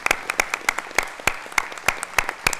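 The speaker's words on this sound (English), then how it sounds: "please join me in a round of applause for these two professionals." Sparse, scattered applause from a small audience at a school district board of trustees meeting: a dozen or so distinct claps in an uneven rhythm, close and fairly quiet in an otherwise hushed room.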